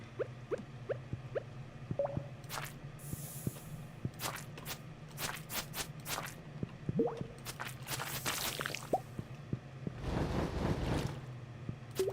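Intermittent water drips plink in the video game Stardew Valley, small soft droplets falling at an irregular pace over a low ambient hum, with a brief louder splash-like rush near the end.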